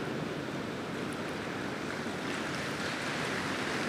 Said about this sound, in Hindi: पहली इतनी तेज बरसात पड़ रही है